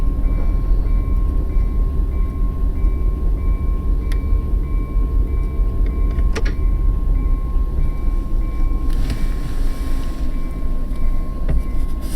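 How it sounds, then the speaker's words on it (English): An Amtrak train rolls past in the Run8 train simulator game, a steady loud low rumble with a sustained horn-like tone and occasional sharp clicks of wheels over rail joints, with no speech. "Oh, there's an Amtrak."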